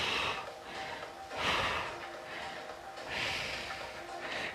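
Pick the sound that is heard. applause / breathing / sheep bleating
breathing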